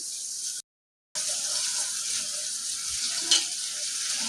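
Soybean chunks dropping into tomato, onion and coriander masala frying in a pan, a steady close sizzle broken by a short silent gap, with light stirring scrapes toward the end.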